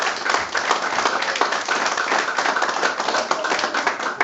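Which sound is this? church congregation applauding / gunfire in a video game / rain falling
church congregation applauding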